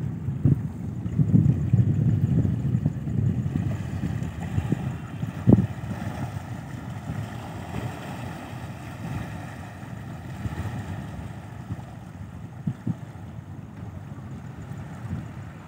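A swollen Mahanadi river surges in a strong current, heard as a steady low rushing roar with gusts of wind buffeting the microphone, louder at first and then settling into a constant churning flow.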